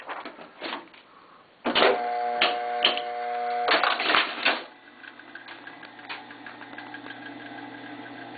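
An AB Dick Model 217G spirit duplicator runs with rhythmic mechanical clacking and thumps, loud and close for a few seconds, then settles into a quieter, steady hum.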